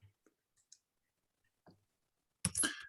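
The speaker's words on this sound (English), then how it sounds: "I'm typing an answer to one of the questions." A few isolated keystrokes tap on a computer keyboard in a quiet room, soft and spaced apart, then a louder cluster of clicks at the end.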